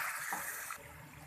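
Half a cup of water poured into a pan of spice-coated mutton for nihari, a steady close gush and trickle of liquid that cuts off near the end, leaving a low simmering hiss.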